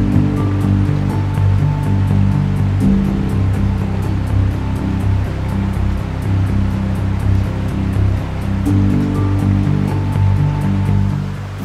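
Glacial river water rushing loudly and continuously during a river crossing on a New Zealand backcountry trail, a close, steady roar with no talking.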